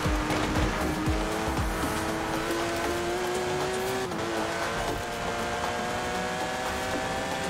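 A Porsche GT3 RS in the racing game Forza Horizon 4 holds a loud, steady high-revving engine note that climbs slowly, with tire squeal and brief shifts.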